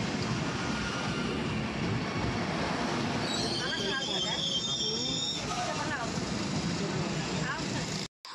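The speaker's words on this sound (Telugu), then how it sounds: "శ్రీకాకుళం రైల్వే స్టేషన్ వచ్చి మనకి ఎదరగా వందే భారత్ ట్రైన్ వస్తుందండి" A Vande Bharat train passes near Srikakulam railway station with a sustained loud rumble and a rushing roar, plus brief high squeals as it goes by, heard close up the whole time before cutting off abruptly.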